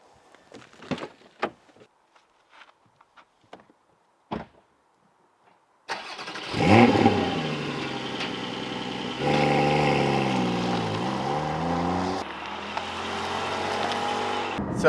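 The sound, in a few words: Porsche 718 GT4 manual starting and driving off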